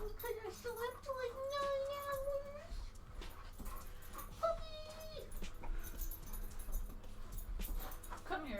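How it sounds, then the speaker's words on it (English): A puppy in the Morenatsu visual novel game whimpers and yips in high, wavering cries, several drawn-out whines rising and falling over steady background hum, close and clear. "Puppy! Come here, puppy."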